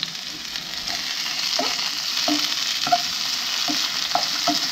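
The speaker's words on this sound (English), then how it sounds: "the moisture is all boiling off of the ones I just put in" Hen of the woods (maitake) mushrooms fry in a pan with a steady, bright sizzle as moisture boils off, broken by several light knocks and stirring clicks, close and without talking.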